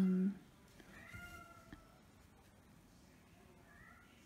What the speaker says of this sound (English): Maestro's meowing.